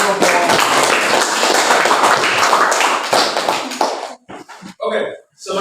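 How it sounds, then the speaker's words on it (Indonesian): Students in a classroom clap loudly for a presenting group, a dense burst of close applause that breaks into a few scattered claps and voices before trailing off. "Oke, tepuk tangan untuk kelompok."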